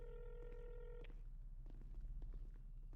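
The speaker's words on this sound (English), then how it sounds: "She's not answering the phone." A phone call rings unanswered in a video game, a faint electronic ring tone that cuts off after about a second, followed by soft clicks and low background hum.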